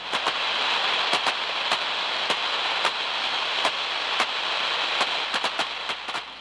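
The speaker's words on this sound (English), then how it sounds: "This is the sound of tracking over the surface of a cracked insulator." Electrical tracking across the surface of a cracked high-voltage insulator, picked up by an ultrasonic probe: a steady dense hiss broken by frequent sharp, irregular crackling snaps, heard alone.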